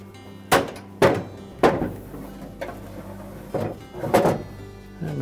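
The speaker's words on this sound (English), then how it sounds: "We'll next put the ice bin back into position." A plastic ice bin is pushed back into a Frigidaire refrigerator freezer, giving a series of about six hollow thunks and knocks at uneven intervals, close by.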